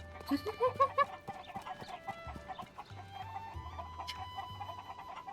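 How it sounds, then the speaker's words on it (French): Several hens cluck in quick, choppy bursts over a low, steady musical drone, the clucks loudest at the start and then thinning out, in The Legend of Zelda: Tears of the Kingdom. "J'ai ces poules, c'est des démons."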